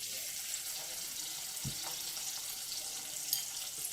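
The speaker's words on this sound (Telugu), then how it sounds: "బాగా శుభ్రంగా క్లీన్గా కడుగుతున్న రొయ్యలండి ఇవి." Prawns are washed under running tap water, a faint, steady splashing stream with one soft clunk midway and no speech.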